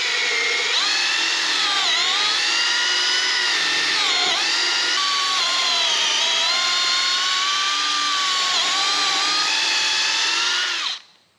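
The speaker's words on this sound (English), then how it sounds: "And I drill as far as I can through here." A power drill bores through wood while building a treated stand for a mini split unit, a steady high whining motor tone held for about eleven seconds before stopping abruptly, loud and close with no talk.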